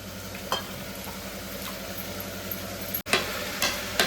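Steady sizzle of hot oil in a pan as potatoes go in for a vegetable biryani, with a low hum running underneath and a few soft clatters and stirring knocks, with no voices present.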